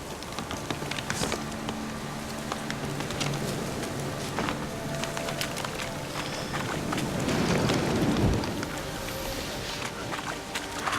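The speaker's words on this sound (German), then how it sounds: "Ein Sturm. Der Sturm kommt auf" Rain and wind from a thunderstorm in The Witcher 3, a steady rushing wash with scattered thuds and a swell of rumble near the end, with no clear voice over it.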